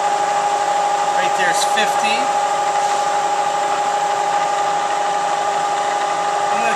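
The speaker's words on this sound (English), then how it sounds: "I'm going to be feeding back across this way towards myself, cutter, bringing the cutter back towards myself" A milling machine cuts a hex part by conventional milling, giving a steady high whine with strong tonal lines throughout. A voice speaks briefly over the continuous machine noise.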